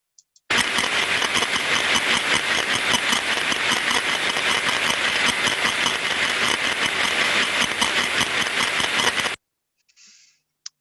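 Ultrasound sensor pickup from the body of a machine's output stage: a dense, steady, repetitive crunching drone runs loud and unbroken for about nine seconds, then cuts off abruptly, leaving a short faint tail.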